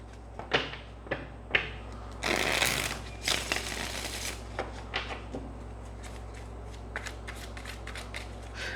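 Riffling card deck sounds in quick bursts, with a longer shuffle in the middle, followed by softer scattered taps and clicks.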